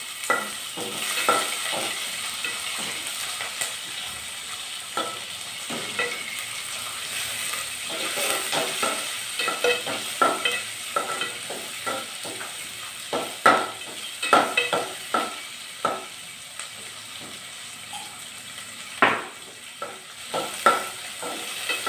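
Chopped medium-size onions frying in oil in a pan, a constant soft sizzle broken by repeated sharp scrapes and clinks of a stirring spoon, close-up, with no one speaking.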